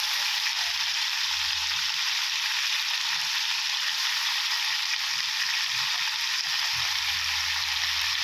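Mixed vegetables stir-fry in a hot pan for a rat na pork dish, giving a steady, dense sizzle that holds level throughout, with faint low scraping underneath.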